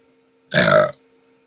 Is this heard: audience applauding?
no